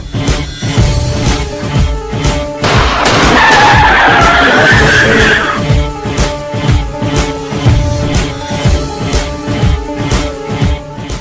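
A car pulls away with a loud tire squeal lasting a few seconds amid a run of sharp, rapid rhythmic thumps, the engine and skidding close and strong.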